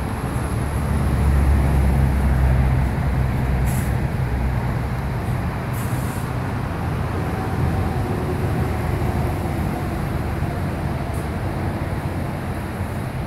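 A train rolls past in Santa Barbara, California, a loud continuous low rumble and rolling noise that swells early on and then holds steady, with a few brief high squeaks above it.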